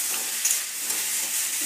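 Green jackfruit frying in a pan gives a steady, close, bright sizzle with faint crackles throughout, and no voices.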